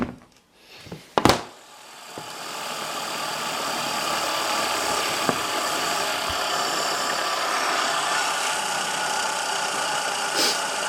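Restored skateboard wheels with rust-recovered steel bearings spinning freely, a steady continuous whirring hum that holds loud and even for about ten seconds after a couple of brief knocks at the start.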